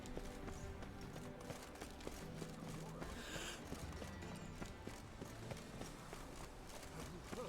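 Horse hooves clip-clop at a running pace in The Witcher 3, a quick steady rhythm of light taps, faint and low, while someone talks over the gameplay.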